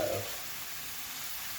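Tofu frying in olive oil in a non-stick pan, a steady close sizzle that carries on evenly after a brief louder start, with no talking.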